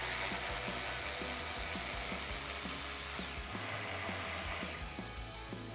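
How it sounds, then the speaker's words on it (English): A ratchet with a 10mm socket works on the upper front bumper bolts of a 2005-2009 Ford Mustang. Its quick, regular clicking repeats close up over a steady mechanical drone and keeps going through the whole stretch. "Now I'm going to use a 10mm socket to remove these 2 upper bumper bolts."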